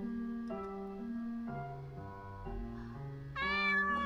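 A cat in the video game Chloe's Requiem lets out a string of soft, sustained meows, each one shifting in pitch, ending in a brighter, higher cry, close and clear without any speech.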